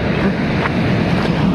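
Dhuadhar waterfall near Jabalpur gives a steady, broadband roar of rushing water, loud and unbroken for the whole moment with no voices over it.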